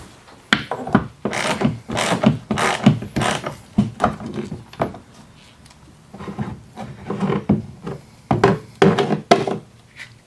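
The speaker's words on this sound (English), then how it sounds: "Now let's just take off the remaining bolt." Ratchet working a fog light bolt loose on a 2002-2003 Subaru Impreza WRX, loud close bursts of quick clicking strokes in irregular runs with brief pauses between them.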